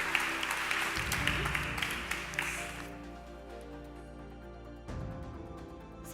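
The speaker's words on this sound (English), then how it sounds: "So I would really request all of you to give a big round of applause to Vanessa and Catalina" Audience applause at a World Summit AI panel on AI regulation, a burst of clapping for about three seconds that fades, then a second short swell of clapping near the end.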